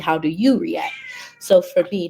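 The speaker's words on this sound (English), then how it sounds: "that's my cat." A pet cat gives a short, bending meow close by, overlapping with a person speaking in the foreground.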